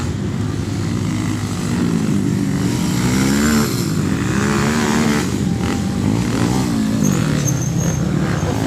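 Dirt-bike engines rev and drone steadily on a loose-dirt track during backwoods amateur racing at the Woodsman Cup, with the pitch rising and falling as the machines accelerate and pass, loud and continuous throughout.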